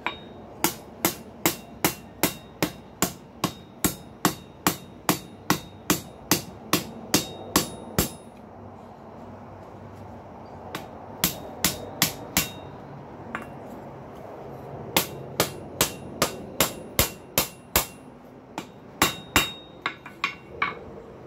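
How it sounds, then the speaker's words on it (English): Hammer blows ring on hot steel stock worked over the edge of an anvil while forging a pintle hinge, a steady series of sharp metallic strikes in bursts with brief pauses, close and alone. "I'm going to start trying to turn this thing over the edge of the anvil"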